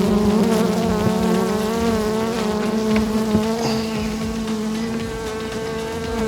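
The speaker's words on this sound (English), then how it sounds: "And the bees should start going in there, assuming that we caught the queen." Dense, loud buzzing of a honeybee swarm around an observation hive, steady droning hum close by with many overlapping wingbeats, no voices.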